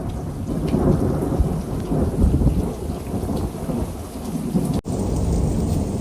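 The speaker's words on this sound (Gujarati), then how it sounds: "બારે વીજળી બહુ પડે છે" A thunderstorm over a farm: steady, dense rain pours down under continuous deep rolling thunder, loud and enveloping, with no talk.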